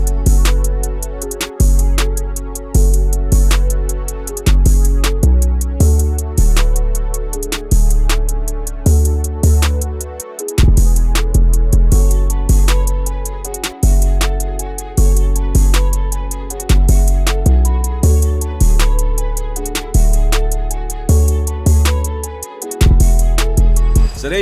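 Moto Bass 2, a free VST bass instrument, plays a punchy, loud line over a simple programmed drum beat, with regular kicks and short pauses and brief gaps in the groove.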